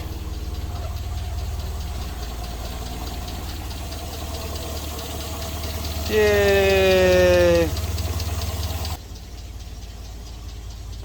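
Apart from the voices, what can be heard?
Ford Falcon engine running at idle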